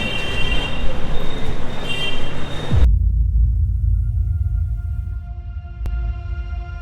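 Loud, low rumble and droning hum of a stationary train idling nearby at Khulna railway station, Bangladesh; the noise drops abruptly partway through, leaving a deep steady engine hum.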